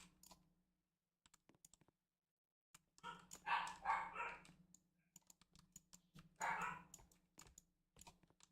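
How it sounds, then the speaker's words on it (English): A dog named Josie barks in short bursts somewhere in the room, two clusters of barks, amid steady computer keyboard typing and mouse clicks during a gaming session. "If y'all hear that barking in the background,"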